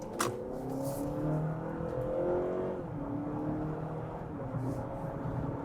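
A Honda CR-V Hybrid accelerating up to highway speed, a steady rising engine and road drone heard from inside the cabin, fairly quiet and continuous.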